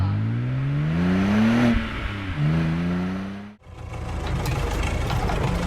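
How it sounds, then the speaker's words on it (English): A car engine revs with rising and falling pitch, held strongly for a few seconds, dips briefly, then roars back in a broader, louder surge of engine noise. "Car."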